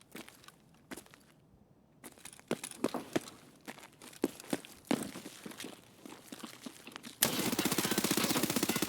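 Gunfire in the game Escape From Tarkov: scattered single shots and footstep-like thumps build up, then a sustained rapid burst of automatic fire at the end, loud and close.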